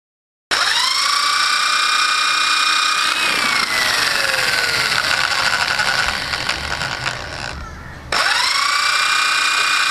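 A power drill bores drainage holes in a plant pot, whining up to speed, dipping in pitch as it bites through the material for several seconds, then stopping briefly and spinning up again, close and loud.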